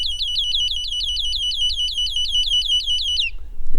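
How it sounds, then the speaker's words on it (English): Wildlife deterrent alarm device going off, a loud rapid series of repeated shrill electronic chirps that cuts off abruptly after about three seconds, followed by low background noise. "Even though Adam warned me about the sound, I might have jumped when I accidentally, yet very easily, set one off"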